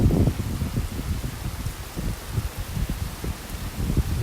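Heavy rain pouring during a morning beach walk in North Naples, Florida, a dense continuous patter with gusty rumbling bursts, close and loud with no voices.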